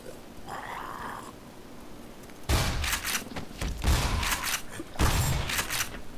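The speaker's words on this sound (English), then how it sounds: "I just shot you once in the head with a goddamn shotgun" Shotgun blasts in the first-person shooter Black Mesa, fired at a zombie: a few loud, sharp booms spaced about two and a half seconds apart, each with a short ringing tail, over a quiet game backdrop.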